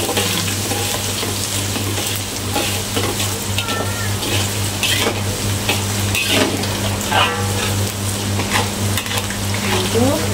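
Garlic and ginger fry in a pan for a Malay mackerel dish, a loud, steady close-up sizzle with occasional stirring scrapes and clinks.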